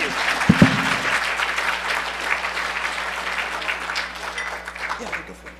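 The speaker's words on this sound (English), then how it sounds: "Give him a round of applause, everybody." Conference audience at a hacker event applauding a talk, broad sustained clapping throughout with a brief low thump near the start and the clapping tapering slightly at the end.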